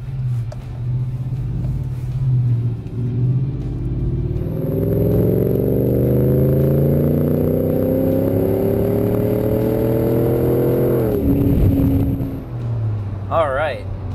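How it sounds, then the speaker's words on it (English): A Chevy Silverado 6.2L truck with an SLP cat-back exhaust rumbles at idle, then revs up into a loud, rising exhaust roar for several seconds before dropping back to a low idle. "Alright, this exhaust is significantly louder than the factory exhaust, which in my opinion is a good thing."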